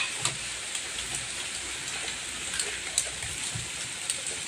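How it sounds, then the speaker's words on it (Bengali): Sudden rain falls steadily, a soft continuous hiss of drops on surfaces with occasional louder drips standing out, fairly quiet and without voices. "এই যে বৃষ্টি হচ্ছে, হঠাৎ করে বৃষ্টি এলো"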